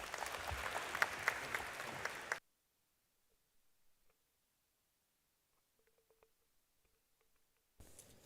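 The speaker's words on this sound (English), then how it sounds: "big round of applause" Audience applause at an energy summit, a dense burst of clapping for about two seconds that cuts off abruptly into near silence with a few faint clicks, then resumes briefly at the end.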